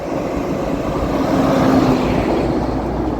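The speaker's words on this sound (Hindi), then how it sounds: "सारा जो है ना ये सब कमर्शियल ट्रैफिक आ रहा है।" Steady commercial road traffic rolls past on a business street in Malton, Canada, a continuous broadband rumble and hiss that swells slightly midway as a vehicle goes by, with no voices.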